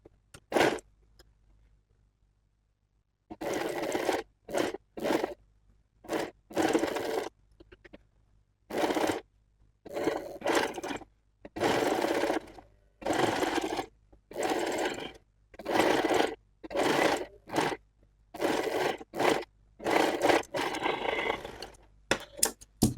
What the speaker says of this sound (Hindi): इस तरह से हमको फोल्ड करना है और यहाँ पे हम सिलाई करते जाएंगे